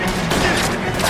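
Gunfire in the crime video game L.A. Noire, a dense, continuous fusillade of shots filling the whole moment at steady loudness, with no clear gaps between bursts.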